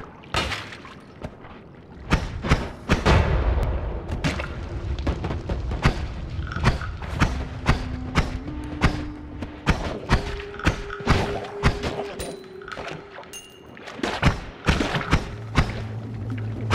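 Explosions and thuds hit drunk enemies inside the Noita video game, a burst of sharp booming impacts around two to four seconds, then scattered thumps and crackles continuing over a steady low rumble with faint tonal game sounds.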